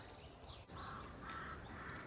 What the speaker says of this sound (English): I'm just watching all these crows busily flying about their treetop nests